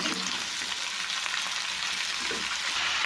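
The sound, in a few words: salt and turmeric frying in oil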